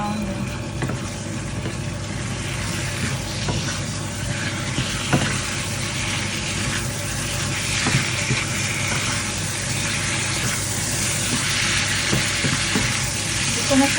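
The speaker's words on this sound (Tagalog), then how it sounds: "And fry some brown." Chicken pieces frying and browning in a pan for a Chinese-style curry, a continuous loud sizzle with occasional stirring clatter, close and steady throughout with no talk.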